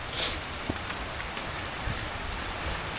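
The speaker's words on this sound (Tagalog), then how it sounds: "Sobrang lamig, umuulan." Steady rain falls during a cold outdoor fishing trip, a dense, even hiss of drops with a few louder patters, continuous and close throughout.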